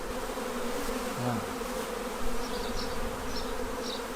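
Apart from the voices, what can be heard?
honey bees buzzing around an open beehive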